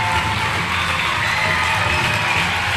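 An audience at a school event in Mohania cheers and claps for the school's top-scoring student, a steady, dense wash of crowd noise with shouting and applause throughout.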